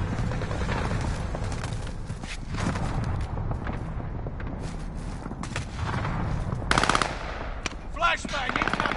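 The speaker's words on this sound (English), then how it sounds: "Oh, gunshots in there, see?" Rapid bursts of automatic gunfire rattle continuously with scattered louder shots and booms, a dense, busy battle soundscape with no talking.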